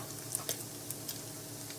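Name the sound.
bacon frying in a pan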